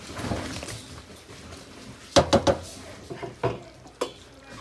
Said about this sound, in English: I like adding coconut milk on my curry. So I'm gonna mix this good.